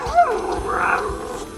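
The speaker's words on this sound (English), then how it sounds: "A built-in speaker allows communication with authentic puppy sounds." A TOMBOT robot puppy's built-in speaker plays a short whimpering, yelping puppy sound, close and fairly loud, with one sharp yip near the start.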